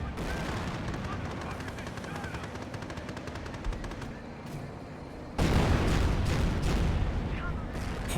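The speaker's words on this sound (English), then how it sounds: "Ooh, another good sector artillery shot there." Dense artillery and machine-gun fire from a Company of Heroes 1 battle between Panzer Elite and US forces, with sector artillery shells landing; steady rattling bursts give way to a louder, heavier barrage of booms near the end.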